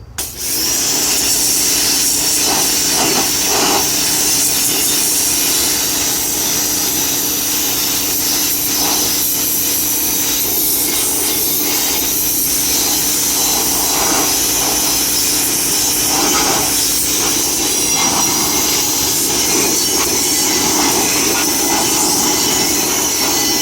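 A pressure washer blasts a rusty wheel from a Bolens Ride-a-Matic riding mower after about a week in an electrolysis bath, a loud steady hiss and spray that runs unbroken throughout with slight surges.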